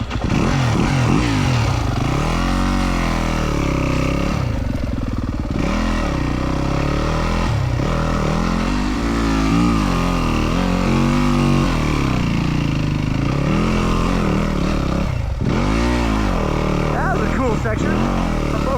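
A 2025 Yamaha WR250F dirt bike rides a rocky Colorado mountain trail at low speed, its engine loud and steady with rising and falling revs and clatter throughout, and a rider talks over it.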